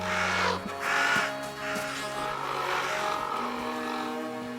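Crows caw loudly in the video game REKA, a few harsh calls near the start over a steady engine-like drone and tonal game ambience, no speech.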